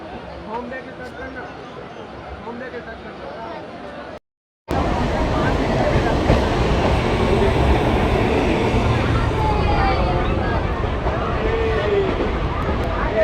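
A Raipur–Itwari passenger train rolling on rails, with a steady low rumble and clatter that drops out briefly and then returns louder and fuller, along with background chatter.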